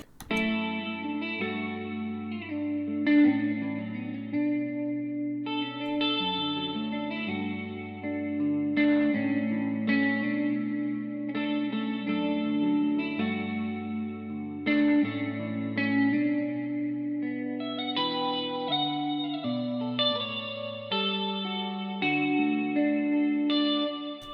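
A sustained melodic vocal sample swirls with flanger, chorus shimmer and reverb wash, notes changing steadily without pause.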